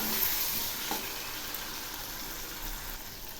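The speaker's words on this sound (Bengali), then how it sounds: "এখন এই মশলা বাটাগুলো খুব ভালো করে কষিয়ে নেব। দিচ্ছি একটা টমেটো পেস্ট," Spice paste and tomato paste frying in a pan with cabbage, a constant broad sizzle with a faint stirring scrape, no talking.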